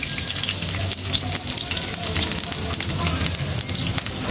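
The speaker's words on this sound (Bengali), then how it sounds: "এই যে পেঁয়াজ কুচি দিয়ে দিচ্ছি, এই যে কাঁচামরিচ দিয়ে দিচ্ছি," Chopped onion and green chilli frying in a pan for a Bengali rupchanda fish curry, a steady close sizzle with crackling hiss running throughout, no voice over it.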